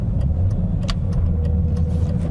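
A BMW M3 E46 with its S54 engine drives at a steady pace, a continuous low engine and road rumble heard from inside the car, with no voices.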